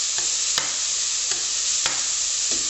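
Meat and onions frying for Moroccan harira, a steady close sizzle broken by a few sharp clicks of stirring, with no voices.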